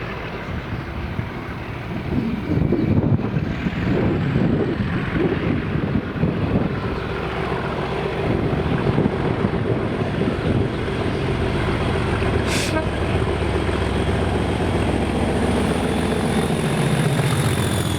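Class 37 diesel locomotive 37422 running light from Motherwell toward Inverness, heard as a loud sustained engine drone and rumble across the whole stretch, steady and close with some wind buffeting, no talk.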